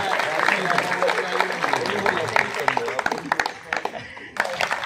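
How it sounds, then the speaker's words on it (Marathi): Audience applause at a business inauguration ceremony, a dense burst of many hands clapping that thins into scattered claps, with voices speaking over it. "टाळ्या वाजूयात पुरुषबाईंच्यासाठी"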